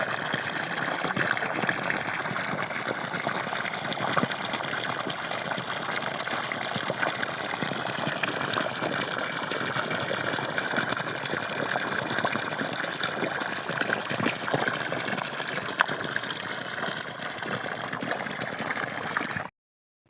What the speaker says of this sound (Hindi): तो उसी के लिए पानी निकाल रहे हैं।